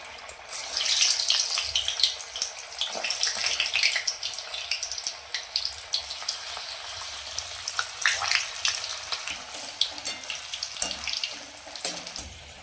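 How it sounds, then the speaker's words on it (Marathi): Taro leaf rolls (alu vadi) frying in hot oil, a steady close crackling sizzle that runs continuously without pause, bright and hissy throughout with small pops scattered across it. "तेल गरम झाले आहे तर आपण याच्यामध्ये वड्या टाकून तळून घेऊया"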